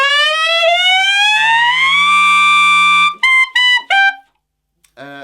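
A tenor saxophone slides in one smooth glissando up to a high E, holds the note, then cuts off into a few short repeated bursts. The tone is loud, close and solo.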